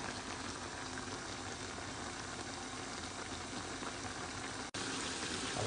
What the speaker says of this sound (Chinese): 最后大火收汁。